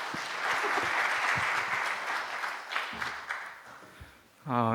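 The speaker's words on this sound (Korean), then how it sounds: "박수로 우리 맞아 주시기 바랍니다" An audience at a church seminar claps steadily for several seconds to welcome a pastor, the applause thinning toward the end before a voice begins speaking.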